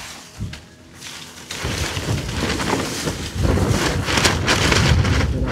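Steady wind gusting and roaring across the microphone, building in strength and staying loud throughout with a broad rushing noise.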